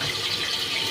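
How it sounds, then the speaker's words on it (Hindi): Water streams steadily into a cooking pan with onions, a continuous splashing pour with a broad hiss lasting the whole moment, fairly close. "उसमें हल्का सा पानी डाल के"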